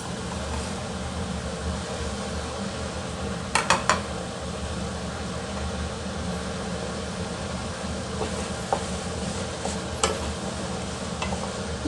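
Soya chunks masala sizzles steadily in a pan, a constant frying hiss with a few sharp clinks and scrapes of a spoon stirring against the metal.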